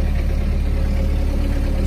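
A 2019 Mahindra ROXOR's cold engine idling while reversing, a loud, steady low rumble held close and unbroken.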